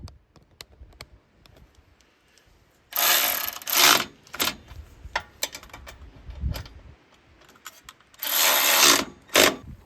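A 1/2-inch drive ratchet tightens 5/16 bolts on a rebuilt Predator 212 small engine, close rapid clicking bursts with short pauses and scattered taps and clanks between them.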